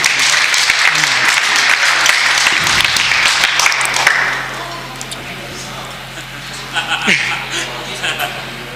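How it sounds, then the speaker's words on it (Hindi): Audience applause at a gathering, a crowd clapping strongly for about four seconds before it thins out and fades, with a dog yipping and whimpering nearby and voices talking afterward. "कुलदीप महाबली के लिए तालियां बजा दी जाएं"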